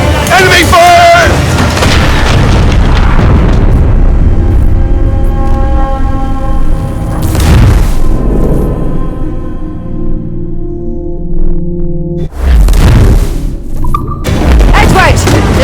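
Cannon fire and explosions boom through a naval battle in Assassin's Creed Black Flag, heavy loud blasts repeating at intervals over shouting voices and a dense game soundtrack.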